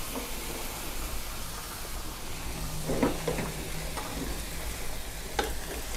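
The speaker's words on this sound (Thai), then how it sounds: "ผัดเลยครับ" Pumpkin pieces stir-fried in a pan for Thai red chicken curry with half a cup of water added, giving a constant close sizzle and hiss with a few scraping stirs, no talk.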